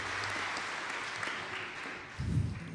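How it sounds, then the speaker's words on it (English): Commencement audience applause at a college graduation ceremony, a steady broadband wash of clapping throughout, with a brief low thump near the end. "Something to clap for."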